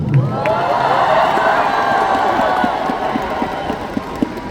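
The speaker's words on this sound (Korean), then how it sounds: "저에게 이렇게 아낌없는 박수와 함성을 주시면" A concert crowd at a performance applauds and cheers warmly, a loud sustained wash of clapping and shouts that holds steady and eases slightly toward the end.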